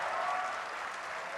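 Steady, dense applause from a poetry audience at a literary festival session in Faisalabad, filling the short moment evenly at moderate volume with no talk over it.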